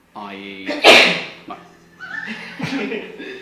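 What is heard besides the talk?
sneeze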